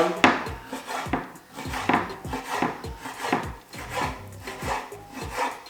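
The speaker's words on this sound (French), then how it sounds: "après tu la découpes en petits morceaux pour faire un bon truc sur ton mac and cheese" A knife chops bacon into small pieces on a cutting board, with steady, evenly spaced thuds of the blade against the board and a slight rubbing scrape between strokes, close and fairly loud.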